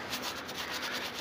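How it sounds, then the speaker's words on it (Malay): A brush scrubs grime off a motorcycle with degreaser, a close continuous rasping rub with quick back-and-forth pulses and no talk. "Guna berus kita gosok bahagian yang dia punya kotoran tu"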